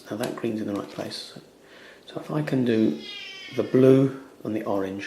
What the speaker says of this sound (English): excuse the cat noises, they're fighting in the conservatory